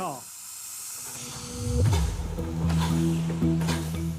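Steam locomotive venting steam, a steady broadband hiss running throughout, with rumbling mechanical tones and a rising whistle-like pitch joining partway, fairly loud and close.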